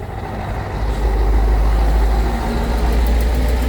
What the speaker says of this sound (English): Where am I going to go without these friggin' trucks everywhere?